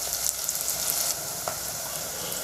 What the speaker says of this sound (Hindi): ये भी डाल देंगे ताकि मिर्ची थोड़ा सा फ्राई हो जाए